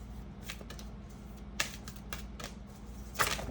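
Tarot cards being shuffled and handled, with soft papery riffles and a few sharper snaps standing out over a low steady background hum; no talking.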